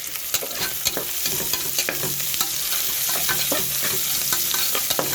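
Onions sautéing in a pan, a dense continuous sizzle close by with frequent quick clicks and scrapes of a spoon stirring, loud and even throughout, no voices.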